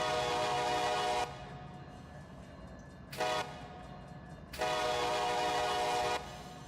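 Train horn blasts from a locomotive at a crossing in the Run 8 train simulator game: three long, loud sustained horn sounds separated by gaps of low rumbling rail noise.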